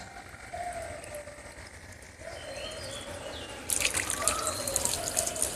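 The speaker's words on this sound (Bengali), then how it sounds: "বেশ দ্রুত গতিতে জলটা টানতে পারছে।" A submersible pump in an air cooler draws water, giving a steady trickling and splashing flow that grows louder and brighter partway through, with no talking.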